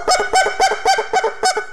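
A goose flute played as a rapid hutta cluck: a loud, close run of about seven clipped, nasal honks in a quick, even rhythm, imitating a goose.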